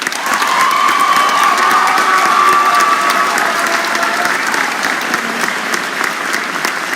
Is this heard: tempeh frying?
no